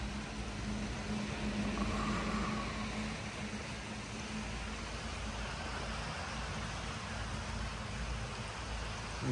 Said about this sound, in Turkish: Yağmur çok güzel yağıyor.